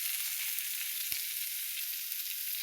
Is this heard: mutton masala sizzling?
yes